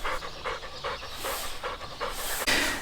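A dog pants rapidly and rhythmically close by, with breathy hissing puffs in a steady pattern and no talking over it.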